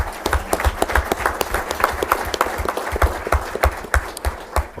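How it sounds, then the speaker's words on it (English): Audience at a school board meeting applauding students, a moderately loud round of clapping with distinct individual claps in an uneven rhythm that carries on without pause. "Let's give all of our students a round of applause."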